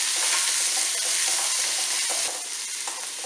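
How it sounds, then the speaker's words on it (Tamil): Curry leaves, garlic and shallots sautéing in hot oil produce a loud, dense, crackling sizzle that holds steady throughout, with faint stirring scrapes underneath. "கருவேப்பிலை, பூண்டு, சின்ன வெங்காயம் எல்லாம் போட்டு நம்ம நல்லா வதக்கிடலாம்"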